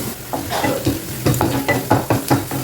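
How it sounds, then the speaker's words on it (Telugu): Onions frying in a pan on low heat until golden, with a steady sizzle broken by repeated scraping stir strokes at an uneven rhythm, close and fairly loud, with no talking. "మంచి గోల్డెన్ కలర్ వచ్చే వరకు వేయించుకోండి ఈ ఉల్లిపాయలు"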